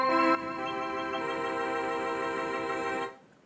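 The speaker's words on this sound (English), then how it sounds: "Our dominant 7 sounds like this." A dominant seventh chord played on a keyboard-like instrument, a major triad with a minor seventh on top, sounding as one sustained block chord for about three seconds before cutting off, with no talking.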